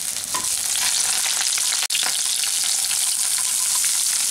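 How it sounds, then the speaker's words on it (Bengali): Four slit green chillies sizzle in hot mustard oil in a wok, a loud steady frying hiss running throughout with one brief dropout near the middle. "এখন এই তেলের মধ্যে আমি দিয়ে দিলাম 4টি চেরা কাঁচা লঙ্কা।"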